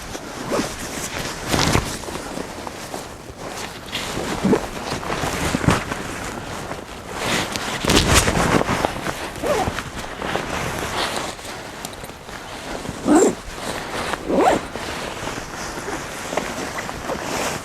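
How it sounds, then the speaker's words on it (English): Sleeping bag being zipped up inside a hammock bivvy, several rustling zipper pulls and fabric shuffles at close range, with no voices. "And then I can just zip up here."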